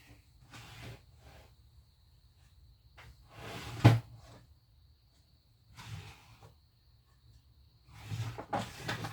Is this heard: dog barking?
no